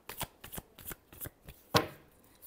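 Tarot cards being shuffled in a series of quick riffling bursts, about eight separate flutters with a sharper, louder final burst near the end, close and alone with no voices.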